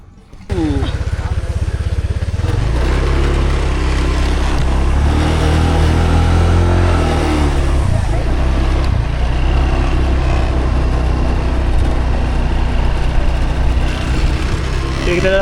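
Rented motorbike ridden on roads in Cambodia, its engine running steadily and loud up close with low droning harmonics that shift as it accelerates, amid wind and traffic noise for the whole stretch.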